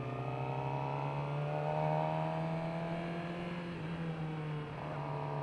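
A 2018 Suzuki GSX-R600 sportbike cruises along with a steady engine drone and whirring wind noise, pitch easing slightly as the throttle changes, continuous and fairly close.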